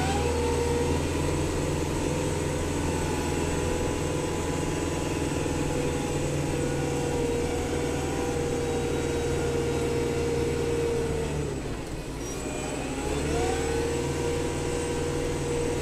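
Kubota 5740 tractor engine running steadily while pushing snow with a blade at night, a continuous even drone with a brief dip in load before resuming.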